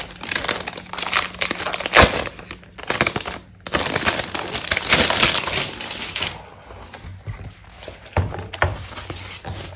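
Sheets of heavyweight 150 GSM acid-free medium-surface drawing paper being handled, giving loud crinkling and crumpling rustles in bursts with short pauses, close up and with no talk.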